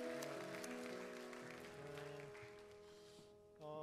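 Faint applause from a congregation at a Korean church young adults' worship service runs beneath steady, sustained music, then gives way to a brief swell of sound at the end.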